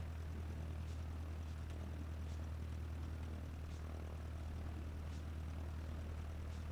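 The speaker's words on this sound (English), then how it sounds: "Let's taxi to the other side of the runway." A light propeller airplane taxiing at Salisbury airfield in a flight simulator game, a steady low engine drone with faint rhythmic clicks over a constant hum, no talking.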